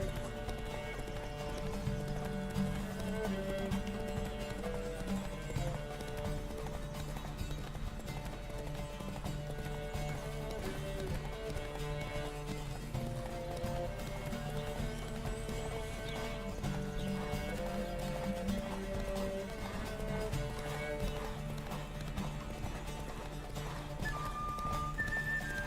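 A horse gallops steadily in The Witcher 3, its rapid, even hoofbeats close and continuous under layered game music and ambience, with no voices present.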